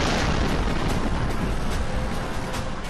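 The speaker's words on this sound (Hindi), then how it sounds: "आप भी सुनिए विस्फोट की तीव्रता।" Cluster bomb explosions in Chernihiv, recorded from inside a car, come through as a continuous heavy rumbling roar. Dense bursts and crackles are layered over it, loud and unbroken throughout.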